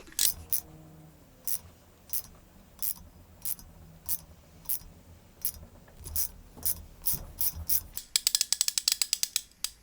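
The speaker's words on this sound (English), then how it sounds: "I ended up chasing all the threads, and I'm not gonna lie, they go in pretty smooth." A ratcheting tap handle chases threads on a 4G63 engine, using cutting oil. Steady ratchet clicks repeat about twice a second, then end in a fast run of sharp clicks, close and clear.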